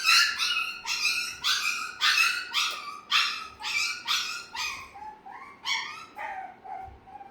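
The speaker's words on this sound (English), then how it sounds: "You can hear the other puppies in the background." Several week-old puppies yip and whimper in a rapid string of high, close cries, loud at first and tapering into softer whines.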